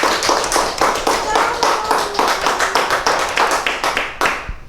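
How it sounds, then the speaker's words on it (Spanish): An audience applauds after a told story, a lively burst of hand claps close by with a few distinct individual claps standing out, then fading quickly at the end. "nada más con el aplauso sabemos cómo le gustó al público el cuento"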